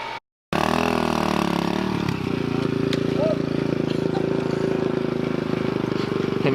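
A dirt bike engine revving close by, a loud, steady buzzing drone that holds after a brief cut at the start, with a voice talking over it.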